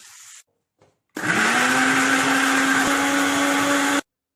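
After a short clatter and pause, an electric mixer grinder roars into a loud, steady whine for about three seconds, pulverising roasted spices into a fine paste, then cuts off abruptly.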